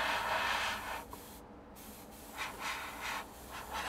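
An airbrush sprays undiluted paint onto a 1/48 scale Junkers Ju 88 A-4 plastic model at about 25 PSI, a steady close hiss with brief pauses and pulses as the trigger is worked.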